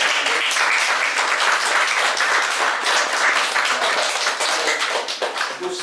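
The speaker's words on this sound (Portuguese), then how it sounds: "Então vamos aplaudir o Will." An audience claps in sustained applause after a trumpet is shown at a music workshop, dense and fairly close, holding steady then thinning slightly near the end.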